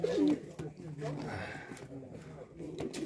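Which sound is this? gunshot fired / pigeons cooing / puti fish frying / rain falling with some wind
pigeons cooing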